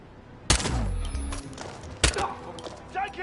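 Gunfire in the stealth action game Hitman 2, heard as two sharp, loud shot bursts with ringing decay, followed by fainter crackling and a brief voice in the background.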